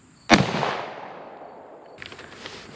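A single loud, close gunshot from a Marlin 336W lever-action rifle in .30-30 fired at about 10 yards into paper, with a long fading echo and faint rustling afterward.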